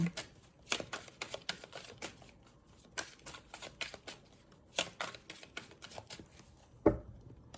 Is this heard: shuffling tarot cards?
yes